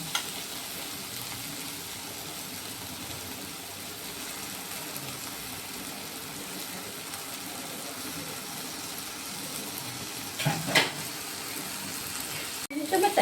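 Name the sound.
prawns frying in a pan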